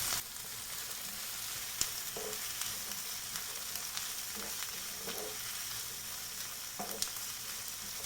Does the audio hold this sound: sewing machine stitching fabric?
no